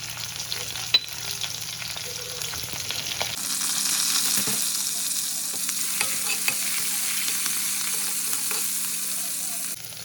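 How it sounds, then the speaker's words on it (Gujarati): Cumin, ginger, chillies, garlic and curry leaves hit hot oil with a sudden loud sizzle a few seconds in, then keep frying in a steady, close, crackling hiss. "થોડું જીરું, આદુ, મરચાં, લસણ અને લીમડી એ નાખી દઈશું."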